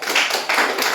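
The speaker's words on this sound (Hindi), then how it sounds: "इस बच्ची के लिए ताली बजा दो।" Classroom clapping for a young schoolgirl who answered a decimal division question, a short burst of brisk hand claps from a group of students, close and fairly loud.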